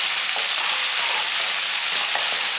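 Garlic cloves sauté in a pan for a coconut milk and fenugreek rice, giving a steady, loud, close hiss and crackle throughout with no pauses.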